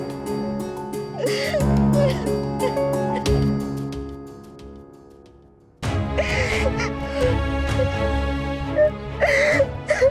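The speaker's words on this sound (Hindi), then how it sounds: "किसके रोने की आवाज आ रही है ये?" A woman sobs and wails in a drawn-out, quavering cry over a background music bed in a Hindi TV drama scene. The crying breaks off briefly, then resumes just as loudly.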